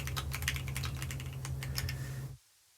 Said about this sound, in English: I can type it here.